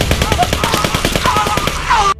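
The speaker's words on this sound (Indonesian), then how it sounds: "tiba-tiba tembakan dari senjata AK-47" A fast, continuous burst of AK-47 automatic gunfire, loud and close, with rapid evenly spaced shots lasting about two seconds.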